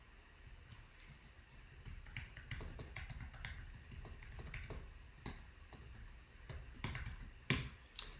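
Steady typing on a computer keyboard, a quick run of light clicking keystrokes close up over a low background hiss, ending with one or two sharper key hits.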